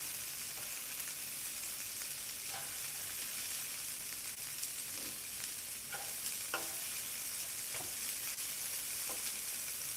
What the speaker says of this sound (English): It don't take long to cook. Mix those in with the potatoes, everything will be just fine.